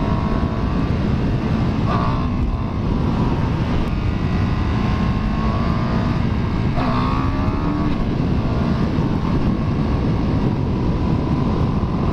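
A 2017 KTM Super Duke R motorcycle being ridden, a loud continuous engine drone with wind rush and occasional rising pitch sweeps as the revs change, no talking.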